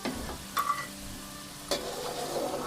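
Potatoes fry in oil for a keema aloo karahi, a steady close sizzle with two sharp utensil clicks.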